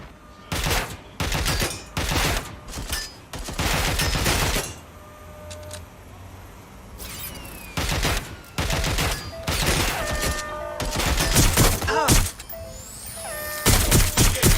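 Gunfire in the video game Watch Dogs: Legion, loud sustained bursts of automatic fire in repeated volleys with short gaps between, dense and close throughout.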